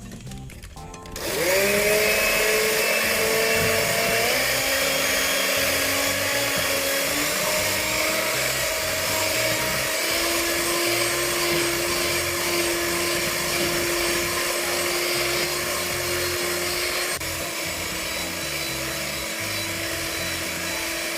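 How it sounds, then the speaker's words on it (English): An electric mixer whisks eggs and sugar for aniseed biscotti. It starts abruptly and then runs as a loud, steady whine close by for about twenty seconds, with its pitch shifting slightly and no talk. "I'm going to whisk the eggs and the sugar for another minute or so"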